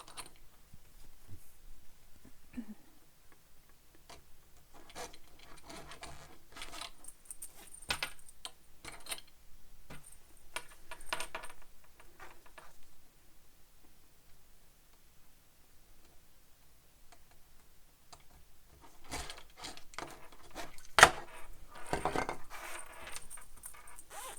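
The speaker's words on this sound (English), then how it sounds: "I'm going to put my zipper pulls onto my zipper tape" Small metal zipper pulls being fitted onto a double pull zipper tape, giving light scattered clicks and ticks in irregular bursts, close and fairly quiet, with no talking.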